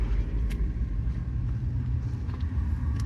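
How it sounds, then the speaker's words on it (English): Trucks backing up near a wooded cemetery, heard as a steady, loud low engine rumble with no distinct beeping standing out. "Why is there trucks backing up here?"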